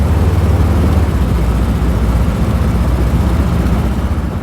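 A 1957 Ford Thunderbird V8 idles with a newly fitted Holley 4160 carburetor despite some exhaust leaks, a loud, steady, close low-end rumble running unbroken and alone.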